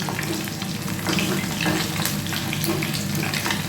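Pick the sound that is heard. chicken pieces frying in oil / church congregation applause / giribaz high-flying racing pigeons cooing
chicken pieces frying in oil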